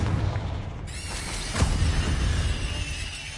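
A Confringo blasting spell in the video game Hogwarts Legacy erupts as a deep rumbling explosion with a sharp crack in the middle, booming low-end and a lingering roar under faint game ambience.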